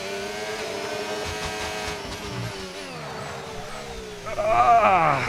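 A Formula 1 car in the F1 25 video game, on fresh soft tyres, runs with a steady high engine whine that dips under braking, then a louder squealing tyre lock-up bursts in near the end.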